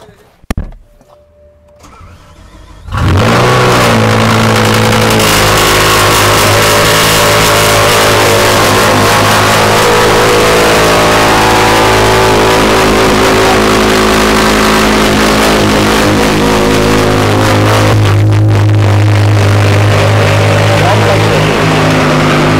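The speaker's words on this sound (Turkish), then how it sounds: "Arabaya şimdi bir cold start verelim." BMW E60 M5 with its V10 engine cold-starting in a burst after a short quiet lead-in, then a loud, sustained, high-pitched idle and revving that fills the rest of the clip, with brief voices near the start.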